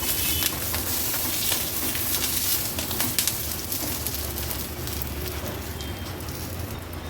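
Green chilies roasting in hot oil in a pan, a dense, continuous crackling sizzle heard up close with no voices.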